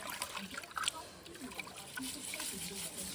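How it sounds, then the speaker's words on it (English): Rice being washed in water at an outdoor Jamaican cooking setup: soft trickling, swishing and small splashes, fairly quiet and close, with light outdoor ambience. "I normally wash my rice one time."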